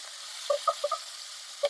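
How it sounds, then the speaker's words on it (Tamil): Chopped onion frying with bay leaf in a pan, a faint steady sizzle under a few brief scraping strokes of a spatula, close and quiet. "இதில் பொடியாக கட் பண்ண வெங்காயத்தையும் சேர்த்துக்கோங்க. இது சாஃப்ட் ஆகிற வரைக்கும் நல்லா இதில் வறுத்துக்கோங்க."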